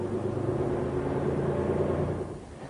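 Low, steady engine rumble of a bus moving through town, holding at an even level before easing off slightly at the end, with no voices over it.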